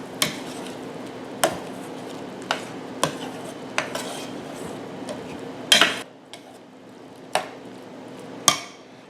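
A metal utensil stirs dry white wine into a pan of shrimp and grits, with sharp clinks and scrapes against the pan at irregular intervals over a soft steady background hum.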